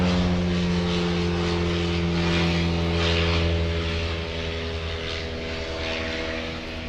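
A small propeller airplane flies near a local airport, its engine a steady droning hum with strong tonal harmonics that holds throughout and fades slightly toward the end.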